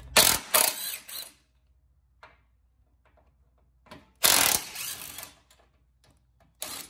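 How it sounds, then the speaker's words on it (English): A socket ratchet on a 14mm socket loosens bolts on a Fiat 500 Abarth, with sharp rapid clicking bursts at the start and middle and a shorter one at the end, separated by near silence, close and loud. "now we need to loosen these bolts on both the passenger and driver side"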